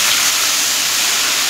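Ginger and green chili paste drops into hot mustard oil with fried panch phoron in a large pot for a big batch of mixed-vegetable labra, giving a loud, steady, close sizzle.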